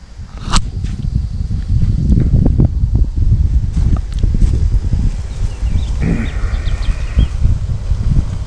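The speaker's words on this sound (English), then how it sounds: "Now it is getting windy" Steady low rumble of wind buffeting the microphone outdoors, with occasional rustles and a faint bird call, no talking.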